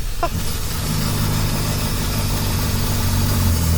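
A rare old Toyota's 90-horsepower engine drones steadily and loudly while the car is driven, with a constant low rumble and no clear pauses.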